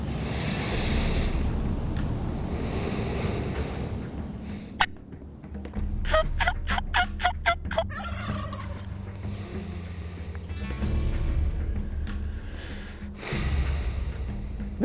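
A wild turkey gobbles at a field edge during a spring hunt, a rapid burst of rattling notes around the middle of the clip, with a fainter call near the end, heard over soft outdoor ambience.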